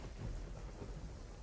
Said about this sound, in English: Another stormy night.